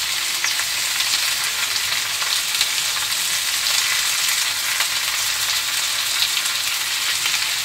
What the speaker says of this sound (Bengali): লতিটাকে ভেজে নিতে হবে